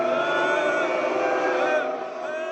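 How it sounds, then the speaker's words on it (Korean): At a World Cup qualifier, Hong Kong football fans boo through the Chinese national anthem, March of the Volunteers, in a dense, sustained roar of crowd jeering that blends with the anthem's droning tones. "중국 국가인 의용군 행진곡이 나오자 홍콩 팬들이 야유합니다"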